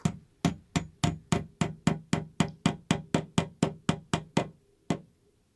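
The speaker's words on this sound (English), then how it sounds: "you will also need a hammer to, to just knock it in there very easy and smooth" Sharp hammer knocks in a steady rhythm, about fifteen evenly spaced strikes knocking a wire-shelf clip into place, close and clear, followed by one final blow after a short pause.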